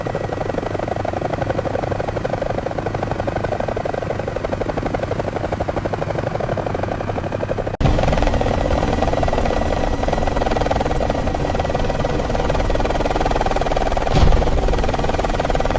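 A helicopter in flight, its main rotor and engine droning steadily and loudly throughout, with a dense buzzing whine, a sudden shift in tone partway through and a brief thump near the end.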